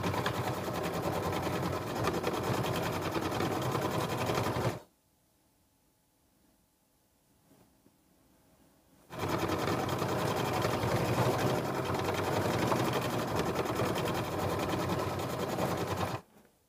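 A sewing machine stitches a decorative appliqué stitch around a quilt block, running in two steady, close bursts of rapid needle chatter with a quiet pause between them.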